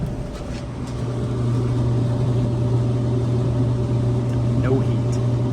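A Samsung clothes dryer with a bad heating element runs without heat, a steady low motor hum and drum rumble that rises slightly at startup and then holds even.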